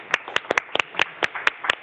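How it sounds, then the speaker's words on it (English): A few hands clap in a quick, uneven rhythm, sharp close claps with short gaps between them. "And I also want to give a round of applause to Marquita and her team"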